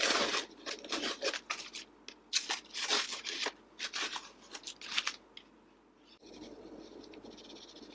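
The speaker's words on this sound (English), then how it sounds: "I'm going to go ahead and take this tape off and apply some finish." Tape is peeled off a handmade wood and resin lamp in a run of close, crackling rips and sticky tearing bursts, and the sound eases into a quieter shuffling hiss near the end.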